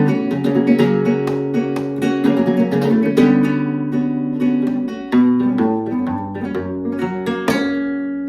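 Flamenco guitar strumming a Soleá groove at medium speed, with dense rhythmic strums, rasgueado accents and ringing bass notes, played up close and steady with no talk.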